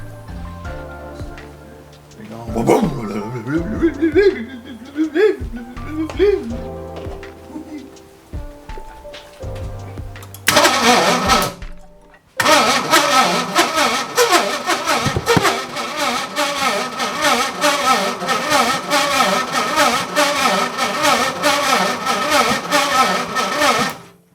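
A V8-swapped Nissan S14 with no carburetor, fed fuel by hand, cranks and catches, then settles into a loud, dense, continuous engine roar after a sputtering, uneven start.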